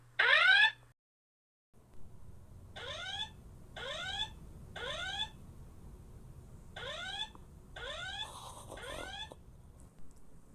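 A school fire alarm sounds in short repeated electronic bursts, with one loud opening burst and then groups of fainter rising chirps over a low background hum.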